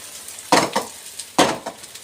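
Lamb curry cooking in a pot, with two distinct stirring scrapes and clatters of a spoon against the pot over a faint background sizzle.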